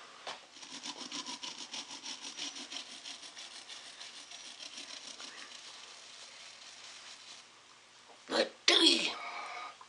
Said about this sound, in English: with this super duper toothbrush, you want to make sure you clean their tooth there good